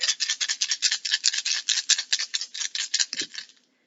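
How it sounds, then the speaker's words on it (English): Tarot cards are shuffled in quick rhythmic bursts, about two dozen crisp riffling swishes at a steady fast pace, close and isolated, ending in a soft tap before silence. "So what I do is I just sort of shuffle it until like at least 2 dice come out."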